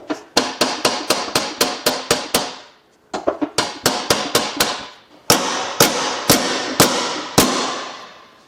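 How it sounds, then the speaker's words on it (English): A bent bracket on a totaled high-mileage Cadillac Escalade is hammered straight: three loud, close bursts of rapid metallic blows, the first fast and even, the later ones spaced wider and heavier, with short pauses between bursts. "this bracket is also a little bit bent. So I'm just gonna do the right thing and hammer it down."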